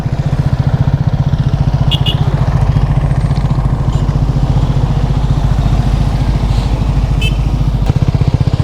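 A motorcycle on a long-distance road ride from Mumbai to Kanyakumari, heading toward Rameswaram: a loud, steady close engine drone with rapid firing pulses and wind rush throughout.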